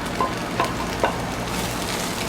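Vegetables fry in olive oil in a pan with a soft, steady crackle, broken by a few small pops and louder spits near the start.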